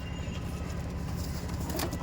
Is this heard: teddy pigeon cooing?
yes